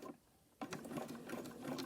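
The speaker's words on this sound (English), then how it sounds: "My sewing machine doesn't like a lot of thickness." A Baby Lock sewing machine stitching through thick fabric-wrapped rope: near silence, then the motor kicks in abruptly with a steady, close mechanical whir and rapid needle clatter.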